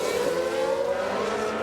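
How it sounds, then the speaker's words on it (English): A Formula 1 car spinning out in the F1 Manager 22 racing game, a steady high engine drone with tire noise that holds through the spin, with no talk over it. "And there it is. That's where they spin out. Sounds like a spin."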